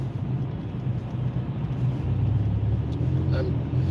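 Chevrolet Impala SS pulling hard to pass several cars, a sustained cabin engine and road rumble holding steady throughout, heard from inside the car, with a driver talking over it.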